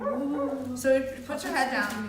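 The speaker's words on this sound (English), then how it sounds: "Sorry about my dog barking." A pet dog barks and yips in short bursts indoors, a few yaps close by and partly under a person talking.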